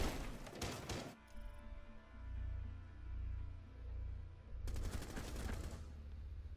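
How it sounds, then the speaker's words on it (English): Rapid bursts of automatic gunfire from Sledge's Elite 5A2 rifle in the video game Rainbow Six Siege, two loud volleys at the start and near the end, with a low rumbling game backdrop in between. "I like Sledge's gun a lot"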